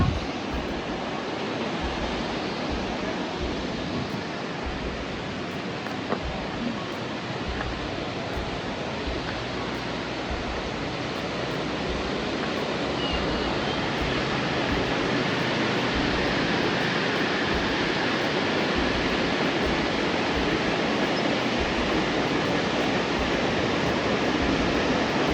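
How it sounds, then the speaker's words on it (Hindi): Neer Garh waterfall near Rishikesh roaring in a constant, dense rush of falling water, loud and close and unbroken from start to finish, with no voices. "ये पानी का शोर सुनकर हमारी शाम बन गई थी।"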